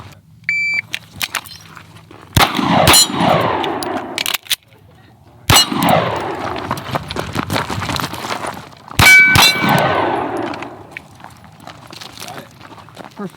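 Pistol shots ringing on steel targets at a shooting course: loud, sharp reports, each followed by a bright metallic clang, fired in quick pairs with pauses between strings and voices faintly nearby.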